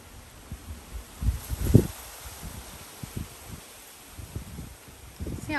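Wind gusts around a milkweed plant outdoors while a monarch butterfly lays eggs, giving uneven rumbling buffets against the microphone that rise and fall in soft bursts over a faint steady hiss.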